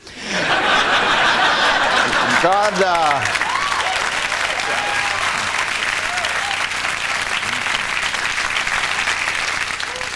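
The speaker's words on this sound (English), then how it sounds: "I waited for you to applaud" Studio audience at a late-night comedy talk show breaks into sustained applause with scattered laughter and a few whoops, loud and steady from the first second to the end.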